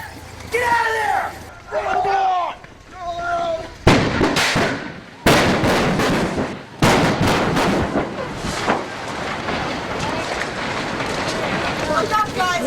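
On a film set, a pyrotechnic fire effect goes off in a sudden loud roaring whoosh with sharp bursts and crackling, following shouted voices, and the blaze keeps rumbling loudly afterward.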